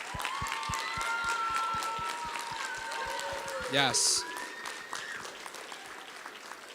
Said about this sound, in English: Hey, can we just clap for these people?